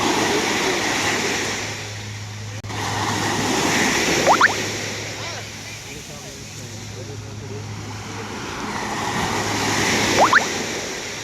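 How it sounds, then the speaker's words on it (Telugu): Sea waves roll in and crash, a loud, broad rushing wash that swells and recedes in two big surges about six seconds apart, with a low steady hum underneath. "సముద్రంలో అలల్లో సౌండ్ ఏనండి ఒకసారి ఎలా ఉన్నదో ఆ ఫీలే వేరు."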